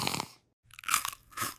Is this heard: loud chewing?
yes